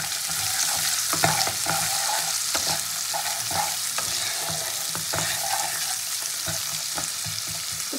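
Chopped onion goes into hot oil in a pan of fried potatoes while cooking a capsicum rohu fish curry, giving a steady loud sizzle with repeated scraping stirs of a spatula throughout.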